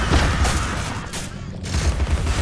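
A rapid burst of loud, thumping shots from the teapot cannon in Alice: Madness Returns fires in quick succession, dense and booming over a short span.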